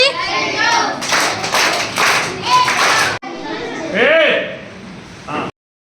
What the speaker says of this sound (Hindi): बहुत बढ़िया, स्काउट ताली।